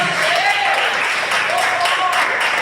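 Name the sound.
congregation clapping in church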